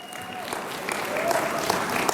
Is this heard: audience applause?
yes